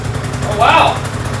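A Yamaha Vino scooter engine, freshly started after sitting, runs with a steady low idling drone throughout while a voice exclaims loudly over it partway through.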